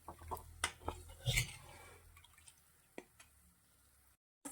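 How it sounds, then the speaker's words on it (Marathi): Lukewarm water is poured into a cooking pot of besan vadi curry, giving soft splashing and dripping with a few light clinks of the pot, close and quiet. "मी कोमट पाणी घालत आहे"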